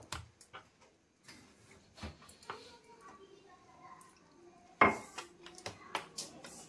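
Pakora batter being stirred in a bowl, with scattered clinks and scrapes of a utensil against the bowl, irregular taps and a sharp louder knock partway through, close and alone without talk.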